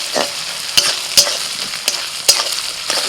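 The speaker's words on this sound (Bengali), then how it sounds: "রসুন বাটাটা দিয়ে একটু পেঁয়াজের সাথে ভালো করে ভেজে নেব" Garlic paste frying with onions in a pan, stirred with a utensil: a continuous sizzle broken by several sharp scraping clacks at irregular intervals, close and fairly loud, with no talking.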